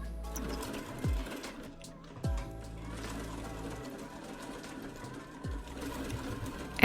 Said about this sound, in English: go to Max's Match, and then you can sew her bathrobe